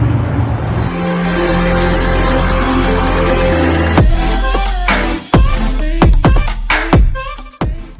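A new truck driving on the road, its steady engine and road rumble loud and close, then broken by sharp knocks and clatters over the last few seconds; no talking.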